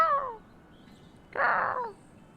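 A person imitates a crow with two hoarse cawing calls, a short one and then a longer, rougher one, heard alone against a quiet background.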